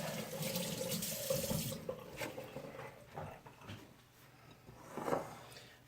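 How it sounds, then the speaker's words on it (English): Tap water runs into a sink as hands are rinsed, a close splashing wash that fades out, followed by a few quieter knocks and drips. "Give my hands a good rinse."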